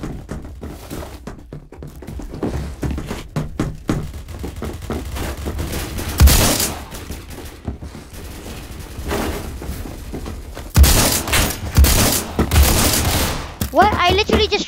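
Gunfire from the online shooter game Phantom Forces, with bursts of rapid shots and loud single reports scattered through the stretch, set over steady background game noise and a voice talking.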